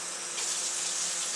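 Hot water runs from a tap for mixing naan dough, a steady close hiss of flowing water that brightens partway through and keeps going without a break.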